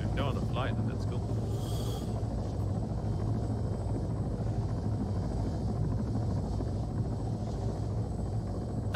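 Helicopter flying in the military game Arma 3: a constant, moderately loud rotor and engine drone heard from inside, with brief voice-like sounds early on.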